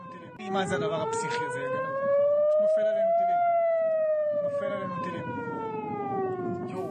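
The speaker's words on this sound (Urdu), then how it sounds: "پورے اسرائیل میں سائرن کی آوازیں گونجنے لگی" Air raid sirens wail across Israel during a missile attack, a loud rising and falling tone with harmonics that swells and fades steadily for several seconds without pause.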